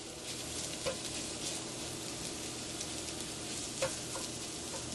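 A salmon mixture sizzles steadily in a hot greased pan, a dense continuous frying hiss with a couple of faint scrapes from chopping it up.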